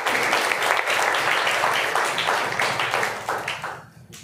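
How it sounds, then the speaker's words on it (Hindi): A congregation at a Sunday church service applauds loudly for Jesus, with dense, continuous clapping that keeps going steadily and then thins and tapers off at the end. "यीशु के जलाल के लिए जोरदार ताली"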